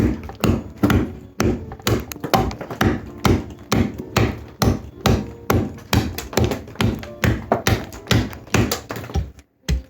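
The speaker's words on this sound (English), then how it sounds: "let's do a little bit of a chop test here and see what this blade is all about" A convex-ground HMKarambit blade chopping into a wood knot, a long run of heavy, fast rhythmic thuds and taps close by, loud and steady, with no talking.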